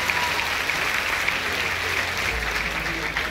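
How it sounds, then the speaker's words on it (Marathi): Dense, steady audience applause fills a hall at an event, many hands clapping continuously at moderate level throughout. "खूप टाळ्या"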